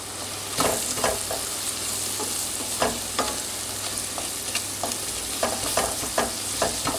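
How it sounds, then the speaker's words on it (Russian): Vegetables with a spoonful of flour fry and sizzle in a pan for a Turkish-style soup, a steady close sizzle broken by repeated sharp scraping stirs. No voices. "Почти готовые овощи добавлю 1 столовую ложку муки и вместе прожарю."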